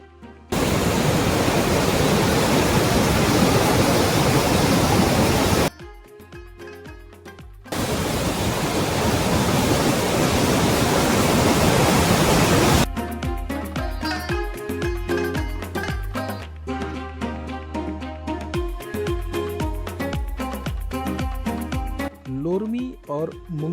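Water pouring over a dam's waste weir in a milky sheet, a loud, steady rushing roar heard in two long stretches, broken by passages of music.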